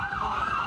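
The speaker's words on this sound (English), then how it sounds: "Ambulance is going by. It's not coming for us" An ambulance siren wails steadily for a brief moment as it passes, a loud sustained tone heard from indoors without any voices.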